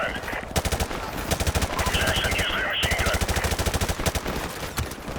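Gunfire in Modern Warfare Remastered, with sustained rapid automatic bursts of shots rattling almost continuously over several seconds, loud and close, with brief lulls between volleys.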